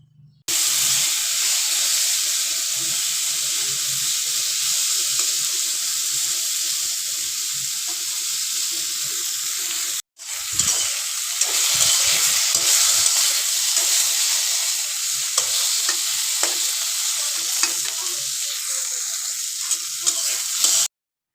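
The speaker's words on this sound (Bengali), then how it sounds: "আমি এখন তেলের মধ্যে ভালো করে কালো বেগুনগুলো ভেজে নিব লাল লাল করে" Black brinjals (eggplant) fry in oil with a loud, continuous hiss and crackle, briefly cut off near the middle, then resuming with scattered stirring clicks.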